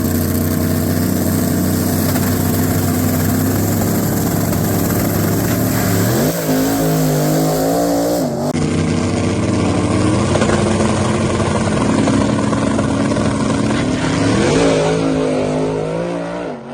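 A turbocharged drag race car roars loudly through a continuous high-revving run in the first elimination round, engine pitch climbing and dropping as it shifts, with a sudden change midway as it passes close.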